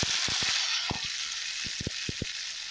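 Ingredients lightly fry in oil for tomato thokku, a constant soft hiss of sizzling broken by scattered sharp pops and crackles, close and fairly quiet, with no voices.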